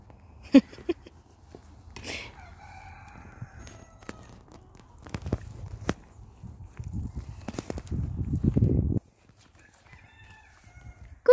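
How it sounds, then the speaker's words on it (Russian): Chickens cluck and crow faintly in a spring farmyard garden, scattered calls among footsteps, clattering hoof-like steps and rustling, with quiet stretches in between. "Там куры кукарекают, козы кричат, да?"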